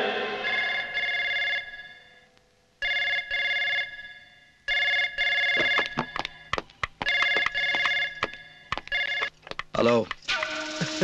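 A telephone rings in repeated bursts of bright electronic trills with short gaps, followed by clicks and handling noises, in a tense scene from a Hindi action film.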